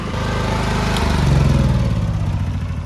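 Aries EAT7000 5.6 kW petrol generator engine running steadily at a construction site, a loud, close mechanical drone with a rough low throb and a slight shift in pitch partway through.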